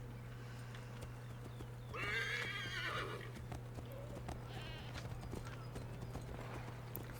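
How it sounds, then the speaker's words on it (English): In the video game Assassin's Creed III, hooves clip-clop at a steady pace and a horse whinnies once, loud and close, over a constant low electronic hum. "Oh, you got a horse!"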